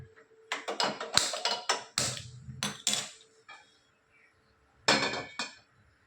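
A metal kadai pan is set back down on a stove while making pumpkin soup, with a run of loud, close metallic clanks and knocks, then a short quiet gap and one final bang.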